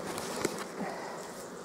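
Honeybees buzz continuously around an open hive's brood box, a soft steady drone close by with a few nearby bees passing, and no talking.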